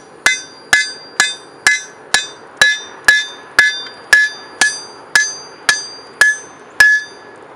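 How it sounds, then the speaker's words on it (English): Steady hammer blows ring out on steel being forged on an anvil corner into a knife handle, about fifteen sharp clanging strikes at an even pace, loud and close with bright metallic ringing. "I'm using the corner of the anvil to create the indentation of the beginning of the handle."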